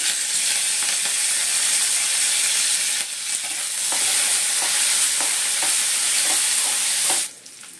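Curry leaves crackle and fry in hot oil for a carrot coconut rice, a steady loud sizzle broken by small scraping stir clicks, ending with a brief drop in intensity; no talking.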